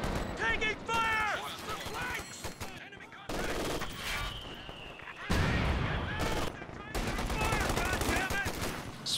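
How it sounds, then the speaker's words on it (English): Gunfire rattles through a Company of Heroes 2 battle, bursts of machine-gun fire and scattered shots cutting in and out under a commentator's steady talk. "taking fire!"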